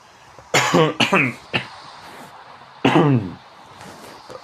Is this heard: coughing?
yes